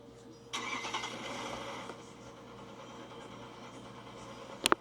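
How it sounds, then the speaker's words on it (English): A repaired car engine, previously damaged in a crash, cranks and catches, then settles into a low, steady idle hum; a faint, moderately loud start with a couple of sharp clicks at the end. "I think you have my engine started."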